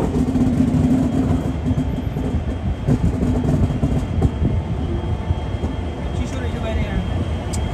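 Dibrugarh Rajdhani train rolling into Moradabad Junction, a steady loud rumble of wheels and carriages heard from inside a 3AC coach, with people talking over the continuous rail noise.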